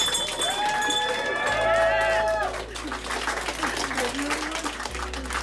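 A crowd lining hospital hallways cheers and claps as a recovered COVID-19 patient leaves. Steady applause and crowd noise run throughout, mixed with sustained tonal, music-like sounds and a low hum.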